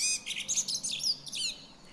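Blackbird singing a short, mellow phrase that ends in a high twittering flourish, faint and fairly distant, with no other sound.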